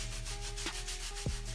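A brush scrubs a caked-in stain out of car carpet in steady, rhythmic back-and-forth strokes, close and alone, over a constant background hum.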